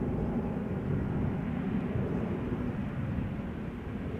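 A Transavia Boeing 737-800 airliner inbound from Naples arrives at Amsterdam Schiphol with a steady, broad jet roar that holds at an even level for a few seconds.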